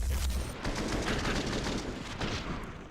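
Rapid gunfire during a professional Counter-Strike match on the Breeze map, dense overlapping automatic shots and cracks sustained loud throughout, close and continuous.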